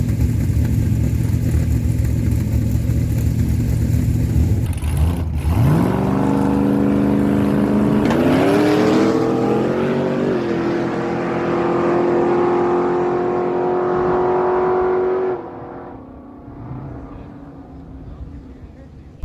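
Drag racing cars and a truck roar down the strip at Miramichi Dragway's no-prep event, one engine climbing in pitch through a hard pass before the loud sustained roar cuts away and fades into distant crowd noise.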